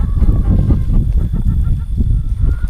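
Farmyard chickens chasing a mouse cluck and squawk in a busy, overlapping chorus, loud and close, with constant rhythmic bursts and no talking.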